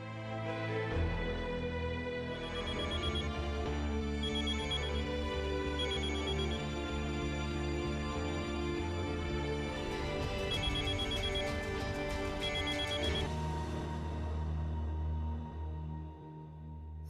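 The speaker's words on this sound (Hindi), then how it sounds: "संजय फोन नहीं उठा रहा। फिर से लगा के देख।" A telephone rings on and on with no one picking up, a steady repeating electronic ring that fills the whole stretch at a moderate, even level with no talk over it.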